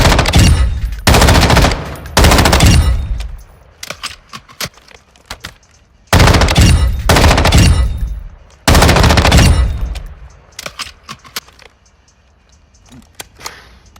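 Rapid bursts of automatic fire from an M13 assault rifle in Warzone, loud and close, several long sustained strings separated by pauses filled with scattered clicks and small clatters.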